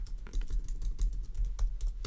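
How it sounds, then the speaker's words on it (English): Bursts of keystrokes on a computer keyboard, close and crisp, with uneven rhythm and short pauses between clusters of taps, alone without speech. "my typing is not the best right now"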